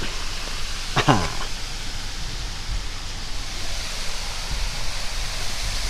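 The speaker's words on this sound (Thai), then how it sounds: "ตรงนี้เป็นน้ำตกจาลอง" An artificial waterfall in Wang Takrai park in Thailand pours steadily as a broad, even rush close by, with a brief chirp near the start and no talking.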